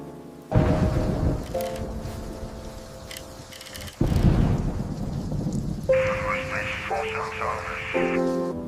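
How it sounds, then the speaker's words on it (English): Rumbling thunder and steady rain wash through, with bursts of loud low rumbles recurring alongside tonal, music-like layers. "The storm will get weaker soon."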